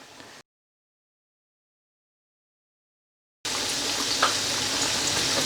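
Potato and onion pakoras frying in oil, giving a steady, fairly loud sizzle that cuts off briefly into silence and then returns strongly after a few seconds.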